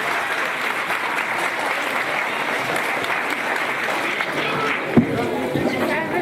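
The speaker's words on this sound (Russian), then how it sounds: "поэтому аплодисменты Гелихану Юсуповичу" An audience at a Mother's Day celebration applauds steadily, a continuous wash of hands clapping at moderate level, with murmuring voices underneath throughout.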